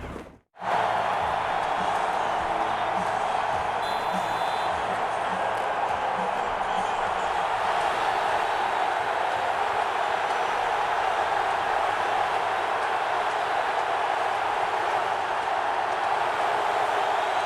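Roaring stadium crowd at a Packers home game against the Bears in 2010, a loud, dense, continuous wash of noise that holds steady from just after the start, with faint commentary voices underneath.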